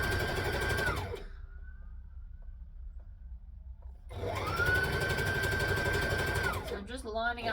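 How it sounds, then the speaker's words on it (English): A sewing machine stitches and back-stitches fabric, running in two long steady whirring passes separated by a pause, close and loud, ending with a short mechanical clatter. "So line it up, stitch it, back stitch it, as always."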